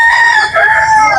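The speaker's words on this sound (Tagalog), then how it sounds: "madaming manok dito" A rooster crows loudly and close by in one sustained, wavering call.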